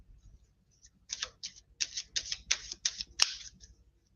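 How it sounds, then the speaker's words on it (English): Tarot cards being shuffled by hand, a quick run of crisp riffling flicks and taps close up, with a sharper snap near the end and no talking. "Let me shuffle these again because we're getting some of the same cards."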